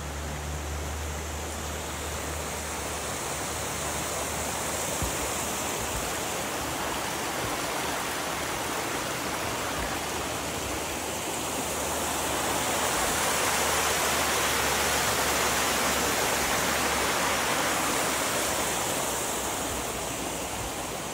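Waterfall on the trail at McDowell Creek Falls, a continuous broadband rush of falling water, loud and steady, swelling slightly midway, with no voices.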